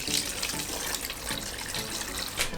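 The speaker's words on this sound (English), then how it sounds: "Pour the water." Water poured from a tap into a pot of washed pork bones and chashu for tonkotsu ramen, a steady close rushing splash running without pause throughout, with no talk.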